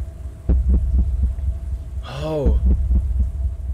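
A steady heartbeat pulses in the background of a music teaser, its low, regular thumps repeating over a constant hum while a person briefly exclaims partway through.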